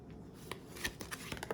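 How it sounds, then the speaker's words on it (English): Tarot cards shuffled and pulled by hand, a quiet run of soft riffling flicks and snaps close to the microphone. "let's pull 2 cards on this little detour"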